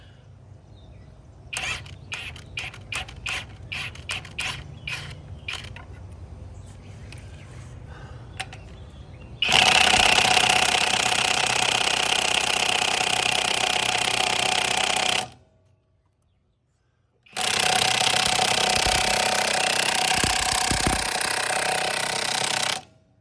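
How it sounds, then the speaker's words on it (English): An impact wrench with a chrome socket hammers at stubborn nuts on an old Dodge, first a few short rattling bursts, then two long loud continuous hammering runs separated by a brief pause. "I'm using a chrome socket on the impact."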